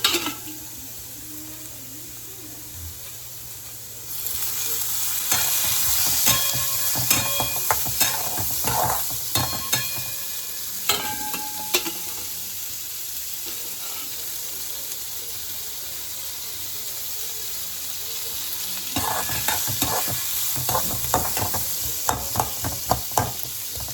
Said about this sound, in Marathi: त्याला गोल्डन ब्राऊन होईपर्यंत छान असं भाजू द्यायचं आहे. यात थोडंसं तेल पण घालायचं